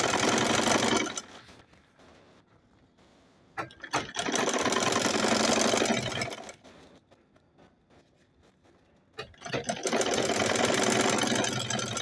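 A sewing machine top stitches a fabric travel bag in two long bursts of steady, close-up whirring, separated by a quiet pause with a few clicks before it runs again.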